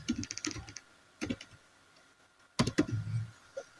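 Keystrokes on a computer keyboard while entering a search term in ArcGIS, with a few short bursts of quick, close taps separated by pauses and no talking.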